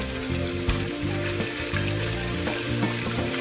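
Marinated bream fish frying in a pan, a loud, steady crackling sizzle with occasional sharper pops and spits, close up and continuous, with no voices.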